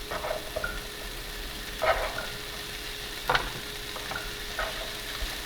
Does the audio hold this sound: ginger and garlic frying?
yes